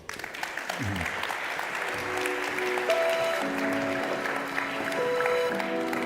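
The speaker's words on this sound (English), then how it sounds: "I think they deserve an applause as well." Applause rises from the crowd at the DesignEuropa Awards ceremony in Copenhagen, a steady wash of clapping with sustained musical tones running beneath it.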